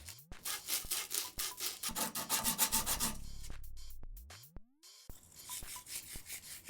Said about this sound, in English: we use some abrasive tape on the pipe ends